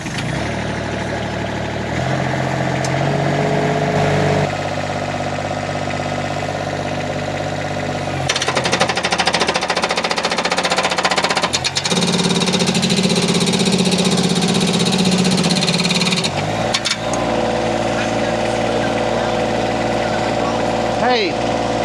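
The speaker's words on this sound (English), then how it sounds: "let me show you how to run a mini skid steer" Small Chinese-made mini skid steer loader's engine runs steadily nearby in a desert setting, a loud continuous drone with a rough mechanical clatter that shifts in pitch and intensity as it works, with people talking over it.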